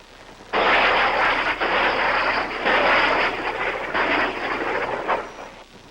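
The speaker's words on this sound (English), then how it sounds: "South Vietnamese helicopter gunships circle and fling down their salvo of rockets." Loud, roaring helicopter gunship noise swells and pulses in repeated waves, rotors passing close overhead as they circle, with no talking.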